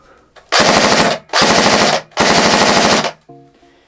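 Three loud bursts of rapid full-auto fire from a Cybergun FN P90 airsoft gun, plasticky and each about a second long with brief pauses, followed by a faint mechanical click.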